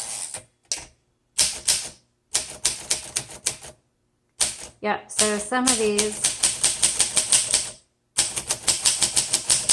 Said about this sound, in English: you do need to type hard on this particular Olympia